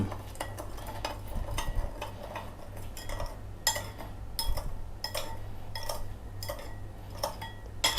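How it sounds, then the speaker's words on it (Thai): Spoon clinking against a bowl while stirring a pork marinade of sesame oil and oyster sauce, with steady rhythmic scraping and sharp metallic taps close by, no talking. "คนส่วนผสมให้เข้ากัน"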